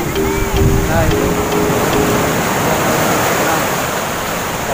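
Big ocean waves roll and wash at Pelabuhan Ratu beach, a broad constant roar of surf filling the whole clip, with a brief whine and faint voices in the background.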